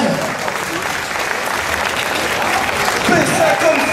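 Steady audience applause at a cosplay contest at Animasia 2010, a broad wash of clapping from a large crowd with voices surfacing toward the end.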